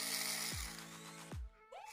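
A children's toy drill whirs in short electric bursts, with two quick spin-downs and a brief rising whine at the end, close and fairly quiet.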